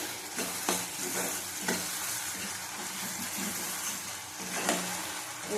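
Masala with a large tomato being stirred and sautéed in hot oil for vegetarian matar dal, a steady close sizzle with repeated spoon scrapes and stirring knocks against the pan throughout.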